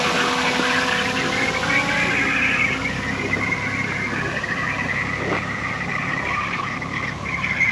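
A DJI drone flying overhead gives off a steady whirring hum of propellers, with tones that rise and fall slightly as it maneuvers, fairly loud and continuous, mixed with wind noise and no speech.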